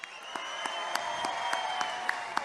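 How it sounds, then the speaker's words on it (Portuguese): Applause fills the hall at a government ceremony, a continuous steady round of clapping with a few sharp, evenly spaced louder claps standing out near the front. "Uma salva de palmas para o Fuad."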